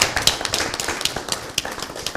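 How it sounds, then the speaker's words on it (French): A talk show studio audience claps in a steady patter of overlapping hand claps, fairly close and continuous, with a few sharper individual claps standing out. "On applaudit pendant qu'il lit"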